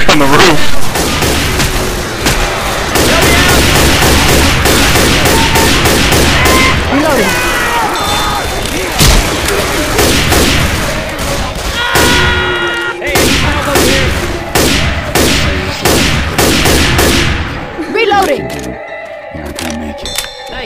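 Rapid gunfire in the zombie shooter game Left 4 Dead 2 rattles in dense bursts for most of the stretch, loud and near, mixed with game sound effects and players talking over it.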